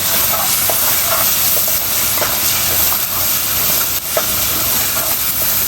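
Garlic frying in oil for Bangladeshi liver bhuna, a steady close sizzle and hiss with occasional stirring scrapes and clicks throughout, no talking.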